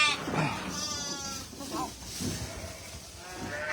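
Ewes bleat on a farm at lambing time, a few wavering calls at moderate distance over a busy, noisy background.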